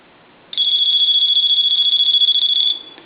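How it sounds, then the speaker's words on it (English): A repaired Dolphin telephone gives one loud, close electronic ring, a rapid warbling trill of about two seconds that starts and stops abruptly against near silence. "Let's go ahead and ring the phone."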